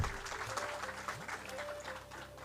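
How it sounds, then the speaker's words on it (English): An audience applauds at the valedictory ceremony of an international academic conference, a sustained patter of clapping at moderate distance, somewhat faint. A few tonal sounds and some voices are mixed in. "Can we have a huge round of applause?"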